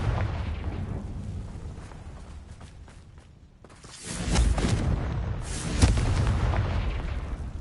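Confringo blast spell in Hogwarts Legacy blowing apart rocks, a loud booming burst with crumbling debris after a brief lull, surrounded by dense, rumbling game ambience.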